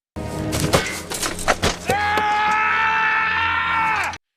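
A man in a film scene kicks a helmet and lets out a long, loud, sustained scream of pain and frustration, preceded by a few sharp impacts and thuds.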